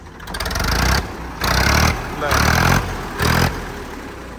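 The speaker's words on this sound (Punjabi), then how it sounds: "ਟਰੈਕਟਰ ਦੀ ਆਵਾਜ਼ ਚੈੱਕ ਕਰ ਲੋ" A Massey tractor's diesel engine runs loud and close, revving in four rising-and-falling bursts about a second apart, with a voice talking over it.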